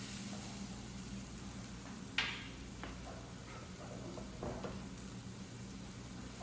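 Onion base sizzling and frying in a pan as an ingredient is added, with a steady background hiss, a sharp burst of sizzle at the drop, then a few soft stirring clicks and scrapes.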